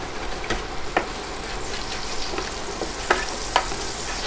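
Turkey drippings and butter sizzle in a hot pan while a utensil scrapes the bottom, a steady frying hiss broken by a few sharp scraping strokes.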